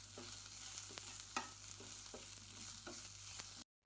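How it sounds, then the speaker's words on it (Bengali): Coriander leaves and other bhorta ingredients stir-fried in a pan: a steady sizzle runs throughout, broken by regular scraping strokes of the spatula, close and fairly quiet, with no voices. "এবার এই সব কিছু খুব ভালো করে ভাইজে নিচ্ছি।"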